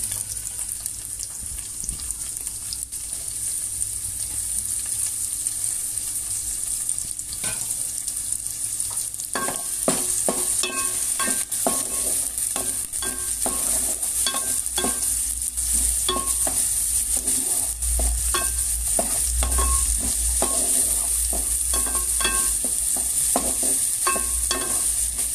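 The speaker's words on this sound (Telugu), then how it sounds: "ఇప్పుడు మనం కట్ చేసి పెట్టుకున్న ఉల్లిపాయలను పచ్చిమిరపకాయలు వేస్తున్నానండి।" Chopped onions and green chillies go into hot peanut oil, a steady sizzle with a bright hiss on top. Frequent spatula scrapes and clatters stir the pan for the whole stretch, and no voices are heard.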